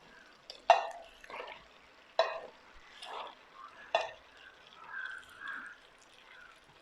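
Tapioca for a Kerala-style kappa biryani is stirred in a pan over a low flame, giving three sharp scraping knocks spaced about a second and a half apart, softer shuffling and wet stirring between them, quiet and close.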